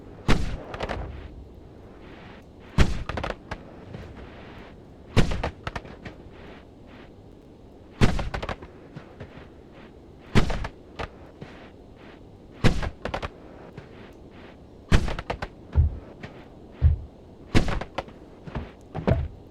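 Repeated booming explosions in the video game Noita at irregular intervals, roughly every two to three seconds, each a sharp loud burst that fades quickly against a low background.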